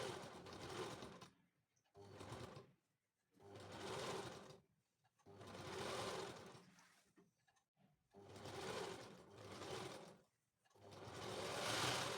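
A sewing machine stitching a kurti in six or seven steady bursts separated by brief pauses, close and clear with nothing else over it.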